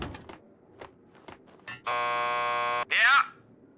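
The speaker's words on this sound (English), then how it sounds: "Want to get to the lockup? Just press the buzzer by the door." A door buzzer at a police station lockup in Max Payne 2 sounds one long, loud, steady electronic drone of about a second, followed by a brief rising electronic chirp, after scattered quiet clicks and footsteps.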